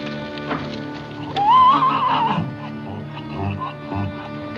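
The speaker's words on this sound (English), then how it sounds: "get the horses into the corrals" Horses at an Old West cavalry post whinny loudly near the middle, with a rising-falling neigh, over scattered hoof clip-clops and shuffling.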